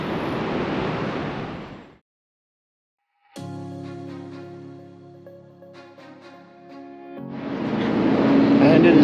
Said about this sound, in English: it is just as windy up on the bridge here as it was when we crossed into Canada this morning